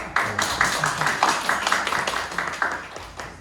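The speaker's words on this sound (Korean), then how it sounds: "일어나서 우리 박수로 환영해 주시기 바랍니다." A small gathering claps to welcome a couple at a church scholarship event: a moderate, uneven patter of hand claps from a modest crowd, fairly close and without speech.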